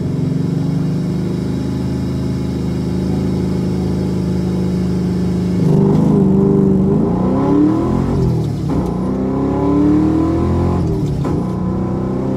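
A 500HP Ford Mustang launching hard on the street, its engine droning loudly, then revving higher with rising pitch through quick gear changes, close and continuous.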